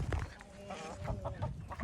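Rooster in a new backyard coop among Sussex and Leghorn hens, giving short clucking calls close by over a busy, noisy yard.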